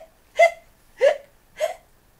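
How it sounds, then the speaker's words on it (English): Three short, sharp hiccups from a child, evenly spaced about half a second apart, close and clear against silence. "he got the hiccups."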